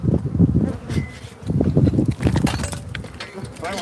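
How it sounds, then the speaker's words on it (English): Africanized killer bees buzzing in swelling, uneven bursts, close and moderately loud, with rustling and voices mixed in. "these killer bees are going to make our point for us"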